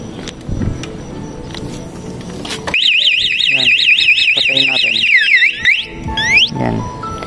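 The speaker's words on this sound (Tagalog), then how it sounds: "bigla na lang magwawangwang, bigla na lang tutunog yung alarm niya." A Lazx two-way motorcycle anti-theft alarm siren warbles loudly and rapidly in a repeating up-down pattern, then sweeps and chirps, starting abruptly after some handling noise.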